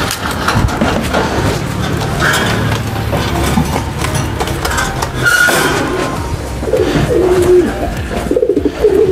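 Pacak racing pigeons cooing, soft repeated coos close by over a busy background of shuffling and scattered bird calls.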